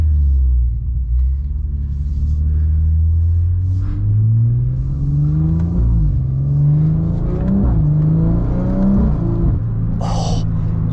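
A tuned 665 hp BMW M140i xDrive accelerates hard on the Autobahn, its engine a loud, steady interior drone with rising pitch sweeps as it pulls through the gears, continuous and without speech.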